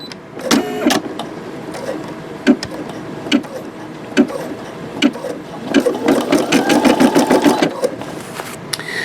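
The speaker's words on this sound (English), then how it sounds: "I'm not going to force you to watch this whole thing embroidering" A Brother SE625 embroidery machine stitches steadily, a loud close mechanical whirring with rapid needle clatter and periodic clicks, speeding into a denser buzzing run near the end.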